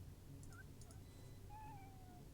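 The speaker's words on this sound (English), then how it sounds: "Cat." A cat gives a few faint, short meows, followed by a longer drawn-out one, against a steady low background hum.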